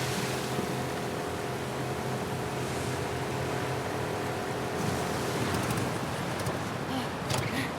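Ocean waves in The Last of Us Part 2 wash in a steady, broad surf roar, with a faint engine-like hum underneath and no clear break in the sound.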